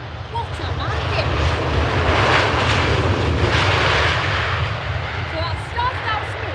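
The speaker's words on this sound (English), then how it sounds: "They lifted off again, then they went bang onto the runway." A Ryanair airliner lands hard on runway 05R at Manchester Airport. A loud, sustained roar of jet engines swells and holds close by, with rumbling under it throughout.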